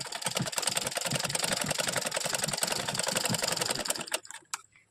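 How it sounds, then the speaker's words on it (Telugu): A sewing machine stitches a lining piece in a rapid, steady mechanical chatter for about four seconds, then stops, leaving a few faint clicks. "ఈ లైనింగ్ పీస్ మీద కుట్టొచ్చే విధంగా పైనుండి ఒకటి వేసేయాలి."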